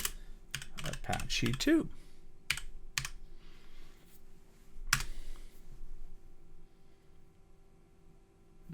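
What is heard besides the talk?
typing apt install command on computer keyboard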